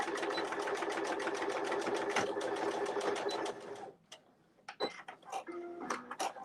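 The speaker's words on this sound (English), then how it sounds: "I like to stitch over the same line." A sewing machine stitching a seam on a sling runs in a fast, steady mechanical whir for about four seconds, then stops, leaving a few short clicks and brief bursts of the machine, close and clear.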